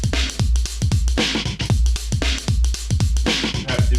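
A resampled homemade drum breakbeat loops steadily, kicks, snares and hats in a dense, punchy groove, loud and continuous without voices.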